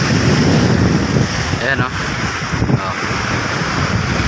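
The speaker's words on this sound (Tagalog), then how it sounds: "Medyo maalon ngayon yung dagat guys" Steady roar of wind buffeting the microphone over surging sea waves, continuous and loud, with a brief spoken word faintly underneath.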